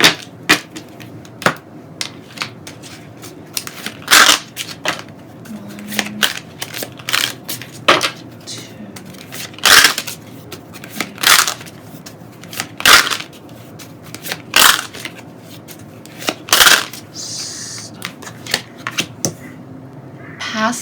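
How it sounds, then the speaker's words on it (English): Tarot cards handled and put away, a string of sharp close clicks, taps and shuffling rustles spaced irregularly with quiet gaps between. "Let me put these cards away really quick."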